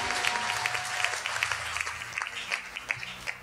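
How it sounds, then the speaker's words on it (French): Audience applause at a church gathering cheering for the Holy Spirit, a steady crowd of many hands clapping close and fairly loud, with a few voices under it. "est-ce qu'on peut acclamer pour le Saint-Esprit?"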